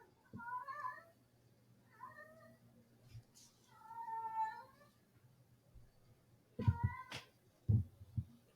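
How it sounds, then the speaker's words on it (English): A cat lets out several odd, warbling meows in a quiet room, the calls rising and falling in short bursts, followed by a few louder thumps and knocks near the end. "Cat's making some weird noises."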